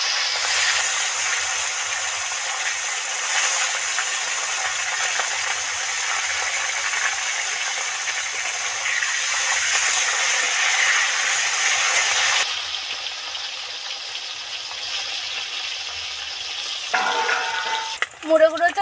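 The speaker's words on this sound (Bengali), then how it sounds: "এবার সব মাছগুলো আস্তে আস্তে তেলের মধ্যে দিয়ে দেব" Mrigal fish pieces fry in hot oil in a wok, giving a steady, bright sizzle and hiss for most of the time. The sound eases and quiets near the end, then a few clinks from handling follow.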